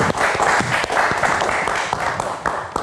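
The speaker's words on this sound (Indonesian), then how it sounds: "Kita berikan tepuk tangan." A studio audience at a live evening talk show claps steadily, a dense, even wash of applause with no pauses, heard up close and alone.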